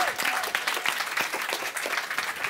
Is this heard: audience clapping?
yes